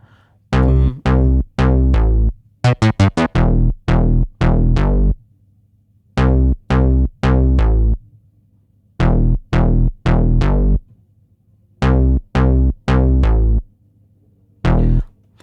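Bass line from a type beat: short, punchy deep bass notes in rhythmic clusters, with a quick rapid run early on, loud and alone.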